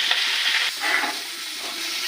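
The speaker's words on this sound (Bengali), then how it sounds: "চিকেনটাকে ভাজা হবে" A loud, close, steady hiss of chicken pieces frying in hot oil for biryani, surging slightly now and then.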